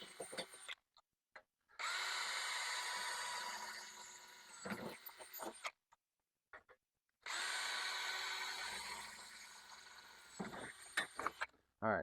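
A power drill bores into a plastic swimming pool skimmer in two long, steady bursts of high-pitched whirring, each running several seconds, with brief pauses and small handling knocks between them; no talking.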